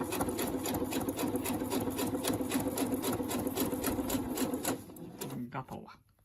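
A sewing machine stitches a long seam with a twin needle, a fast steady mechanical whirring rattle that runs loud and even for about four seconds, then slows and stops.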